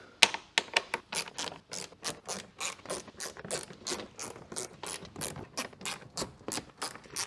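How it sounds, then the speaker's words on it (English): Rapid ratchet clicking as under-tray bolts are undone on a BMW M2, a long steady run of close, crisp clicks in quick rhythm with a few sharper knocks near the start. "So now we're going to remove the under tray, and for that we need to remove 11 of these bolts."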